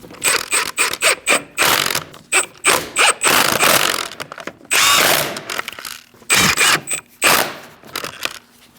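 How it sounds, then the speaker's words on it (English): Power impact tool tightening the lug nuts on a 2000-2006 Mini Cooper wheel, loud repeated bursts of whirring and rattling hammer blows in quick short runs with brief pauses between, close up and without talk. "Let's tighten these down. We're going to do that in a crisscross manner."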